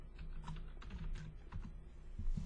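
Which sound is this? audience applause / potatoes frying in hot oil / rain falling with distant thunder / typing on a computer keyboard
typing on a computer keyboard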